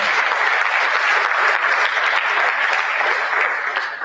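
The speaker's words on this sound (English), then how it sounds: "There's another round of applause for the prof." Sustained applause from a lecture audience at a distinguished personality lecture series event, dense steady clapping at full volume throughout without a break, tapering only slightly at the very end.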